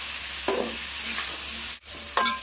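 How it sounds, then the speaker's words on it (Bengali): Pumpkin pieces with salt and turmeric frying lightly in a pan, a steady soft sizzle broken by a couple of sharp scraping stirs, close up with no voices. "তো দেখো কুমড়োগুলো কিন্তু আমি হালকা করে ভেজে নিয়েছি"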